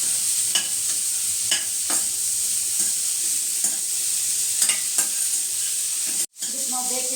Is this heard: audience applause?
no